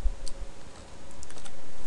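A few quiet computer keyboard keystrokes, brief light clicks over a steady low hum.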